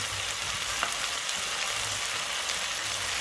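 Chicken and vegetables (celery, carrots, capsicum, cabbage, onion) stir-frying in a pan for chow mein, a steady dense sizzle with faint stirring scrapes, close and continuous without talk.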